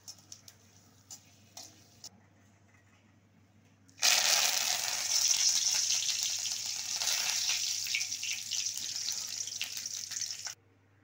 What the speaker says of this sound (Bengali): তো এবারে এগুলোও কিন্তু আমি লাল লাল করে ভেজে নেব।